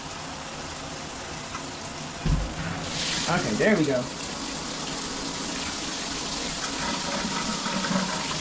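Water sprays from a shower head being tested setting by setting, a soft continuous hiss with a sharp knock and a brief gushing surge partway through, while someone speaks briefly.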